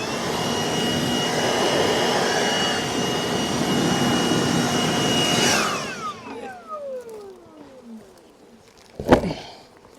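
A blower roars steadily at close range, clearing bees off the top of a honey super during a September honey harvest. It winds down partway through, and a sharp knock follows near the end.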